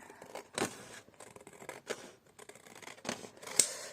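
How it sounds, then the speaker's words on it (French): Scissors snip through a paper stencil in several separate crisp cuts spaced across a few seconds, close and clear with quiet gaps between, no voices. "je vais découper ici cette partie"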